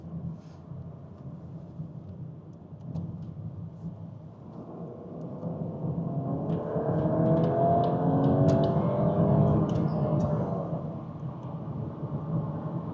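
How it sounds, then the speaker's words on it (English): A Volkswagen Golf R Mk8.5 with the R Performance Pack accelerates from inside the cabin, its engine and exhaust swelling from a low rumble into a louder, rising drone over several seconds before easing off, with no talking. "Then you've got a nice exhaust note."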